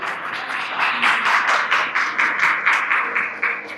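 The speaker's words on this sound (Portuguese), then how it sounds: "Uma salva de palmas, essa mulher linda" A crowd applauds a woman at a church service, a sustained wash of many hands clapping with steady rhythmic pulses, fairly close and loud with no talk over it.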